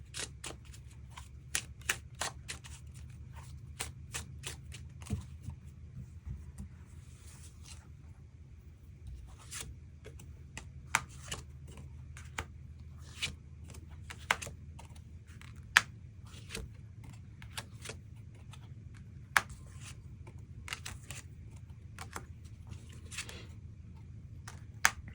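Tarot cards shuffled and drawn, heard as repeated crisp card snaps and riffles scattered irregularly over a low steady background hum, close and quiet, with no voices.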